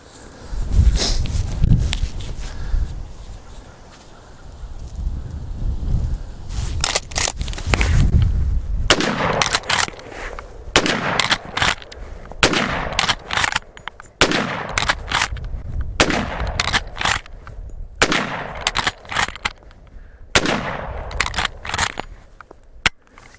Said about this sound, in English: We're just going to shoot for the barrel as rapidly as I can rack this thing in and fire off another round.